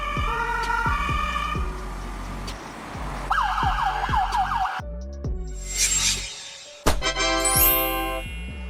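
Austrian ambulance sirens, Mercedes-Benz Sprinter, Volkswagen Crafter or Peugeot Boxer vans as used in Vienna, sound loud and close in several abrupt cut segments, shifting between wailing sweeps and rapid yelping tones over engine rumble.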